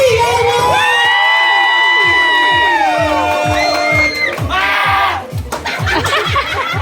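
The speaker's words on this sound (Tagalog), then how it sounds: "Parinig po ng malakas na palakpakan na may kasamang hiyawan!" A big crowd cheers and shouts loudly, with children's voices prominent and sustained whoops rising over rhythmic clapping near the end.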